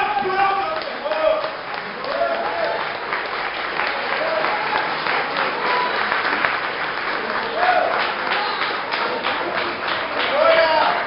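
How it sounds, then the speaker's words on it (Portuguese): A church congregation applauds at Easter Sunday worship with dense, continuous clapping filling the room, loud and sustained, while a preacher speaks over it. "Vive de fé e aplauda o Senhor, igreja."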